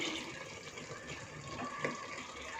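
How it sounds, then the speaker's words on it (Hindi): Water poured from a mixer grinder jar into a pot of mutton for curry, heard as a steady, close liquid splashing and trickling stream, with no talk. "अब हम मिक्सी जार में थोड़ा सा पानी डालकर इसे चलाकर मटन में डाल देंगे"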